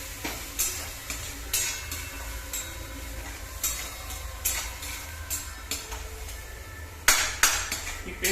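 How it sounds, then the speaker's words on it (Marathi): Tomato, capsicum, ginger and garlic paste for pav bhaji fries in oil, with a steady sizzle under repeated scraping stirs of a spoon against the pan and a sharper clatter near the end. "पेस्ट घातल्यानंतर हे सर्व तेल सुटेपर्यंत टाकायचं"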